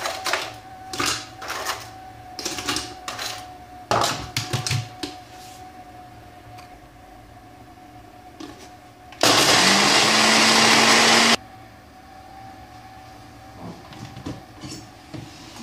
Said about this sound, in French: je vais mixer mes gâteaux